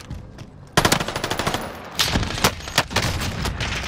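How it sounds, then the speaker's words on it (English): AK rifle firing in a team shooter video game, rapid automatic bursts of close, loud shots, a long volley followed by several shorter spaced bursts. "That AK that you picked up, Mike, is phenomenal."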